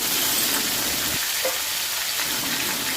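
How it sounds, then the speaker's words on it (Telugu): Green chillies frying in oil after urad dal and cumin, a dense continuous sizzle with a few soft stirring knocks, close and steady with no talk. "ఆ తర్వాత పచ్చిమిరపకాయలు వేయిస్తున్నాను."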